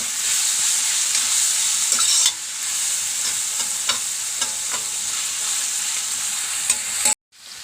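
Onions frying in a pan for a crab roast, with steady loud sizzling and repeated scraping stirs throughout, no talk.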